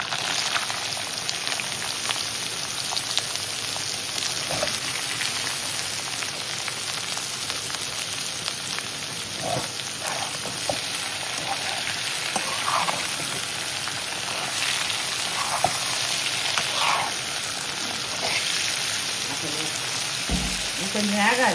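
Broad beans fry in a pan with a constant close sizzle, broken by occasional soft clicks of stirring.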